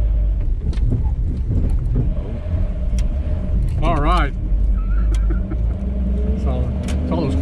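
A 1954 Ford Custom Line's engine rumbles loudly and continuously close by, a constant low drone with a brief rise partway through, while people talk over it.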